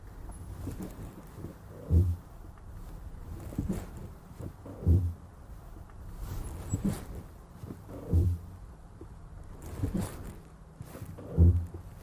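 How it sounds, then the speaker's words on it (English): A low, groaning creak from a Polestar 1's brakes at low speed repeats roughly every three seconds at a slow, even pace, faint against quiet background noise. "the brakes make a weird creaking sound like this"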